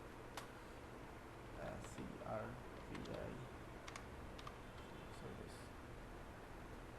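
Typing on a computer keyboard while laying out a flyer design, with sparse light key clicks and a few brief bursts of taps over a soft background hiss, fairly quiet.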